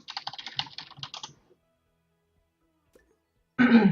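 Computer keyboard typing in a fast, close burst of clicks for over a second, followed by quiet and then a brief rustle or throat sound.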